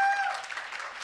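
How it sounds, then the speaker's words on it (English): Brief burst of audience applause during a lightning talk at the 2018 Latino Media Summit, a short, fairly close patter of many hands that fades quickly. "Thank you, I'm glad men are clapping."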